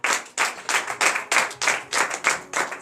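A congregation at a morning prayer service in Benin claps in a steady rhythmic beat, about ten sharp, evenly spaced bursts of many hands together, close and loud with no voices over it.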